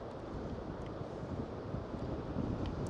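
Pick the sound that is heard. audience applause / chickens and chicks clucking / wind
wind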